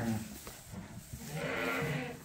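Sheep and lambs bleat close by in a lambing pen, two wavering calls one after another, the second rising and longer, with no talking over them.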